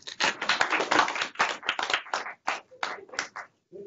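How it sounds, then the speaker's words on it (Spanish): A class breaks into a short burst of hand clapping, dense at first and thinning into scattered claps before fading out, close and fairly loud. "Muy bien, un aplauso."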